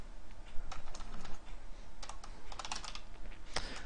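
Quick bursts of typing on a computer keyboard, close and fairly quiet, with clusters of clicky keystrokes separated by short pauses.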